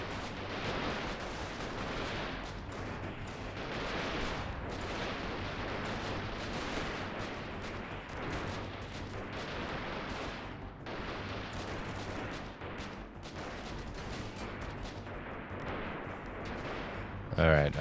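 Dense gunfire and explosions from the PC war game Freeman Guerrilla Warfare, a continuous roar of overlapping shots and blasts, steady and loud throughout, with someone talking over it.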